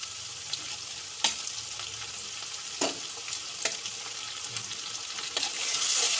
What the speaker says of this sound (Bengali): ভালো করে ভেজে নেব পেঁয়াজ রসুনটাকে